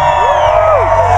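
A live audience cheers, whoops and shouts in response at an event, a loud continuous roar of many voices with rising yells filling the whole moment.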